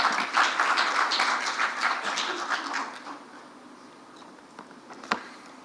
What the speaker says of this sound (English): please round of applause as she comes to the stage